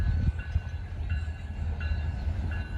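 A freight train on the Indiana & Ohio Railway in Loveland, Ohio rumbles past nearby, with a deep steady low roar and periodic high squeals and clacks from the wheels at regular intervals.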